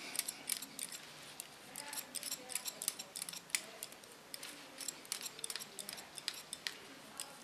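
Hairdressing scissors cutting a pixie haircut freehand make quick, close snips in an irregular rhythm, soft and crisp against a quiet salon background.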